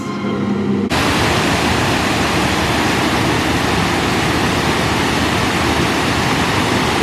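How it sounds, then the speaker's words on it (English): A waterfall in palace gardens pours with a loud, steady roaring rush of falling water that starts abruptly and continues evenly, with no voices over it. "They've also got this gorgeous waterfall."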